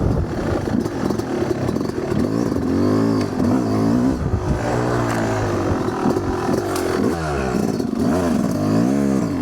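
A dirt bike engine revs hard and continuously up close, its pitch rising and falling through repeated throttle blips with mechanical clatter, loud and steady throughout.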